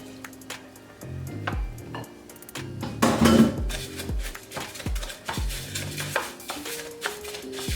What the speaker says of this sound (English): now we're just gonna add our butter and mix it well together